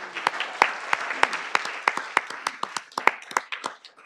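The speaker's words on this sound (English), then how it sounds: "Please give them a round of applause." Council meeting audience applauding two staff members, Tracy and Kate: a few seconds of steady clapping with sharp individual claps standing out, moderately close and continuous throughout.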